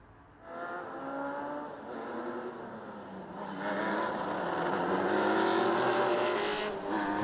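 Historic racing cars roll out onto the Sandown circuit, their engines rising and droning in overlapping tones that grow louder as several cars pass close by, with no talk.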